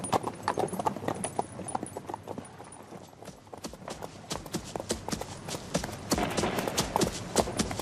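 Horses ridden over boggy moorland ground in fog clip-clop in a quick, uneven rhythm of hoofbeats, moderately close and fairly soft, with no voices.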